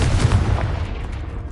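A Confringo fire-blast spell exploding in Hogwarts Legacy, a short heavy boom with a deep rumbling low end that fades over about a second.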